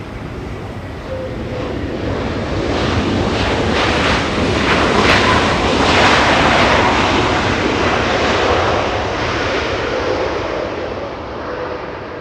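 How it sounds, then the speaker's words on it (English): A Delta Airlines Airbus A321 arriving at LAX from Atlanta makes a loud, sustained jet roar that swells toward the middle and then eases slightly, with wind rushing across the microphone. "Let's go to Delta Airlines, an A321. Flying in from Atlanta."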